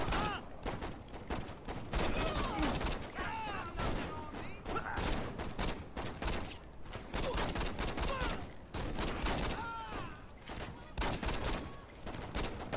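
Rapid gunfire in Saints Row, dense bursts of shots crackling almost without pause and loud throughout, with a voice talking over the shooting.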